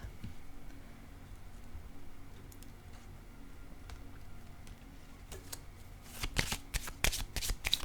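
Tarot-style cards shuffled and laid down during a card reading, quiet rustling for several seconds, then a burst of sharp, crisp riffles and slaps near the end, close and alone.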